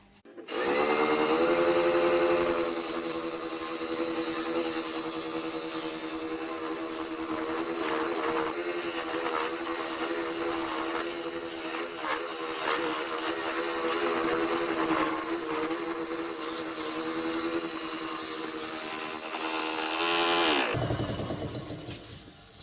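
A wood lathe spins while a tool shapes a wooden vase, a steady loud whirring hum with scraping, tonal vibration running continuously before the machine winds down at the end.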